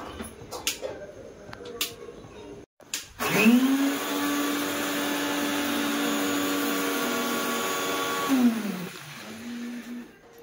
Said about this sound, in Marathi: पोहे जरा मिक्सरला बारीक करून घेते